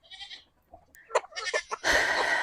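A goat bleats loudly a few times nearby, with short rustling and shuffling sounds between the calls, on a farm with chickens.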